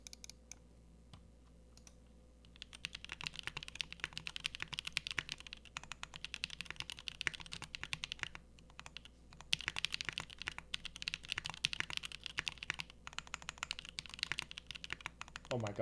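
Steady typing on a HELLO-0110 mechanical keyboard with lubed Strawberry Milk switches, Duroc V2 stabilizers, a polycarbonate plate in top mount and ePBT Orange Creamsicle keycaps: dense, fast clacks close up, pausing briefly near the start, with faint talk beneath.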